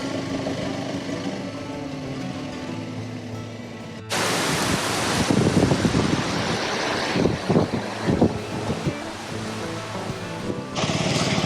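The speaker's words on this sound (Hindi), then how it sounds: "ये है वो झरना।" Waterfall crashing down from a height onto a mountain road on the route to Adi Kailash in rain, a loud broadband roar of pouring water that begins abruptly and stays dense and steady.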